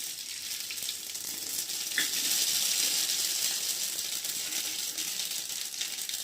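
Mustard seeds sizzle and crackle in hot oil while tempering for curd rice, a steady close frying hiss with faint pops throughout and no voices.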